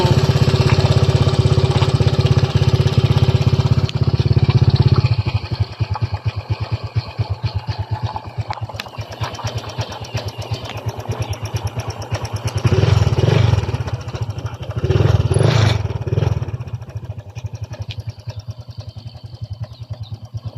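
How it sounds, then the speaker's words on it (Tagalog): A Honda Click 125 scooter engine, just after crankshaft bearing replacement, runs steadily up close, idling with a rapid pulsing rhythm, then revving briefly a few times before settling back. "ito naman tunog ng kanyang motor pagkatapos ating mapalitan ng bearing ang kanyang crankshaft"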